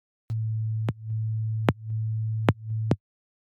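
A plain sustained sub bass synth tone from a bass sound-design session holds a steady low pitch, broken into four sustained notes by short clicky gaps, loud and alone.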